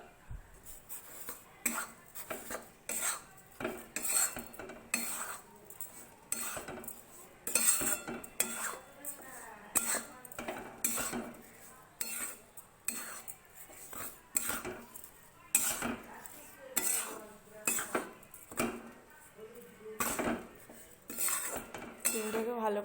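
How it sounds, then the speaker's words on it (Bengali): A spoon stirs sugar into an atta laddu mixture in a metal bowl or pan, giving rapid, close, repeated clinks and scrapes in an uneven rhythm, with no talking. "চিনিটাকে ভালো করে মিশিয়ে নিচ্ছি।"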